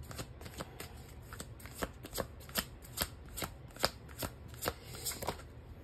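Tarot cards are shuffled by hand in a quick, steady riffle of soft papery slaps, about a dozen close, fairly quiet bursts in a row with no voice.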